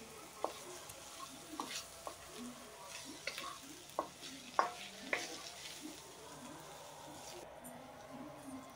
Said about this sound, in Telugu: ఇక్కడ పసుపు ఉప్పు వేసి డ్రై రోస్ట్ చేసుకున్న రొయ్యలు వేసుకుంటున్నా